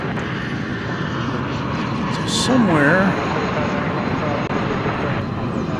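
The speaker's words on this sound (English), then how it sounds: "It's the sound of an Airbus A319." An Airbus A319 jet takes off at Dallas Fort Worth airport, a steady broad engine roar from a distance, with someone talking over it partway through.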